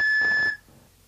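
A single shrill whistle blast, steady and piercing, lasting about half a second before cutting off into quiet.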